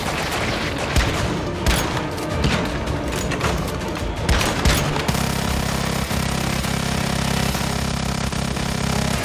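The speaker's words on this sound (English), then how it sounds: "Luckily, that minigun is remarkably inaccurate." A minigun fires in the survival game Once Human: bursts of rapid, booming shots give way to a sustained droning spin-up roar with a continuous rattle, loud and close, with no talking.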